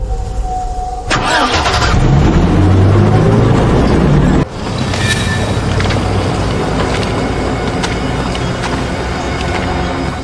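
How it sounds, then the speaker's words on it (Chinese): A bus engine cranks and catches, then rumbles loudly and keeps running as the vehicle pulls away, a heavy, close drone with a brief dip partway through. "咱们盘蛇寨居然还有大巴车！"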